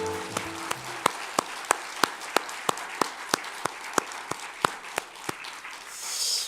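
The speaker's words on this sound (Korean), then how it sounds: "하나님께 영광의 박수를 올려드립니다." A church congregation claps along in steady, evenly spaced unison beats over a continuous wash of applause during an all-generations Sunday worship service.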